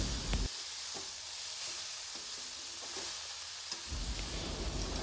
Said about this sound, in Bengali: নেড়ে চেড়ে বেশ কিছুক্ষণ আমাদের এই কলার থুরগুলো রান্না করে নিতে হবে